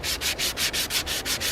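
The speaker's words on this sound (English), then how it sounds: "we're going to take our sandpaper and we're going to sand it" Sandpaper rubbed by hand over a dried gourd shell in light, quick back-and-forth strokes, about eight even scratchy passes in a steady rhythm, close and clear with no talk.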